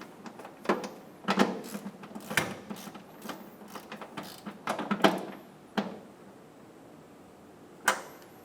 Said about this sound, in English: Using a 13mm, snug down the new stud. Do the same on the bottom.